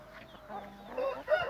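An Aseel rooster lets out a brief, close run of soft clucks and throaty calls, rising in pitch and loudness toward the end.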